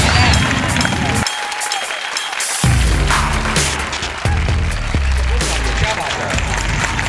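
A live comedy show audience breaks into loud, dense applause and crowd noise to welcome comedian Shakeel Shah on stage, with a host's voice talking over the clapping as it swells and dips.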